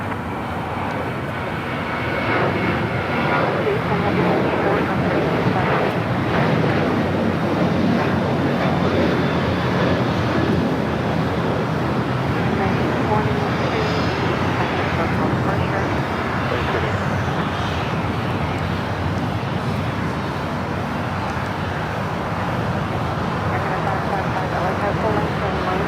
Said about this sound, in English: a 737-800 now rocking and rolling down 25 right